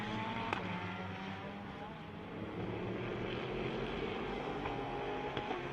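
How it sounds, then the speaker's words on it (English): Bentley GT race cars with big V8 engines accelerate at a Canadian circuit during a GT championship race, a broad continuous engine roar carried under faint commentary. "Rolling those big V8s onto the throttle."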